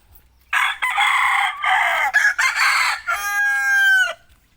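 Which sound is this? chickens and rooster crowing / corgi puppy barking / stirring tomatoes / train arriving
chickens and rooster crowing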